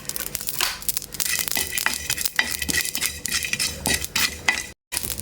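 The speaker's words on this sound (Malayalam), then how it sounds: "ഇത് നമുക്ക് കുറച്ചൊന്ന് വറുത്തെടുക്കാം" Whole spices for a beef kala dish dry-roasting in a pan, a dense, continuous scraping and rattling as they are stirred, loud and close with no talk.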